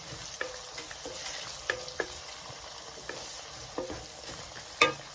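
Lentil curry stirred in a pot with garlic, a steady sizzling hiss broken by several sharp scraping clicks of the spoon against the pot, the loudest one near the end.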